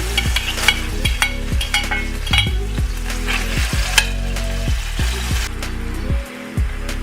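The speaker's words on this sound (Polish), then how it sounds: "I podsmażam resztę mojej wołowiny" Beef browning in a frying pan: a steady close sizzle broken by repeated rhythmic scraping strokes as the pieces are stirred, with no one talking.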